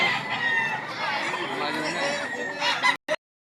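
Roosters and hens at a gamefowl market in Lipa, Batangas crow and cluck loudly and close, one long crow stretching across most of the moment before a brief final squawk, with market voices mixed in.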